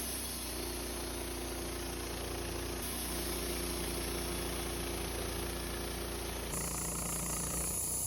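A Woodmizer LT15 sawmill runs its blade through a knotty log on the first cut, a loud, continuous engine-and-blade drone with a steady whine that shifts pitch partway through and again near the end, with no talking.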